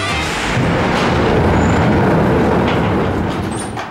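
Space Mountain roller coaster train running at Disneyland Paris, a dense continuous loud rumble and rattle of wheels on track with faint high squeals, steady throughout.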